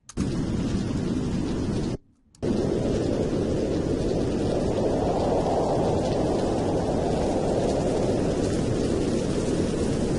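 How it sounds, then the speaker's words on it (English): Synthesized thunderstorm effect of wind and rain: a loud, continuous roaring rumble that cuts out for a brief instant early on, then resumes and holds steady to the end, with no voices. "Let's listen how the wind and the rain sound together."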